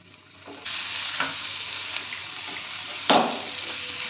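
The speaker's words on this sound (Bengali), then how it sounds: "এখন সব কিছু ভালোভাবে কষে নেব" Diced potatoes, green chilli and spices sizzle and fry steadily in a pan while being stirred for ghugni, a continuous close hiss with a louder burst of sizzling partway through.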